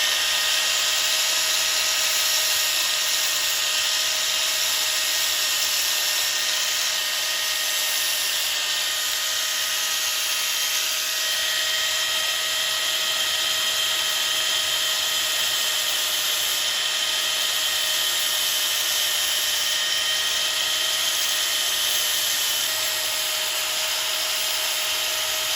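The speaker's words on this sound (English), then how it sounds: "that's going to be grinding a clip point onto our blade tip" A power grinder shaping a clip point onto a knife blade tip, a continuous high-pitched whine with a bright grinding hiss, steady and close throughout with no voices.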